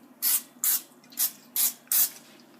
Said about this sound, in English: just get some cooking spray and just give it a spritz